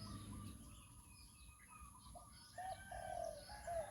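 Zebra dove cooing in a bird-keeping setting, a soft rolling coo with repeated trilled notes growing louder toward the end over a steady background hum and faint other birds.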